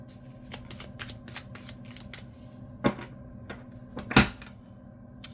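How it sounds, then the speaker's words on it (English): Tarot cards being shuffled by hand close up, a soft riffling patter with a couple of louder slaps and flutters midway, over a faint steady hum. "Let's pull a couple tarot cards as well."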